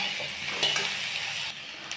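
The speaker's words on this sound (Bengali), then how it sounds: "আলু আর বেগুনটাকে এইভাবে একটু ভেজে ভেজে নিচ্ছি ভালো করে।" Potato and eggplant pieces fry in oil in a pan for a bottle gourd greens curry, giving a steady close hiss of sizzling with faint stirring, no voices.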